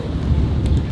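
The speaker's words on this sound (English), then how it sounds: "We're having a thunderstorm, so that's what that noise is." Thunderstorm heard from indoors as a continuous low, heavy rumble with a hiss of wind or rain over it, filling the whole moment without any voices.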